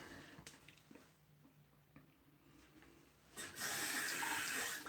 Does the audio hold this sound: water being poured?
yes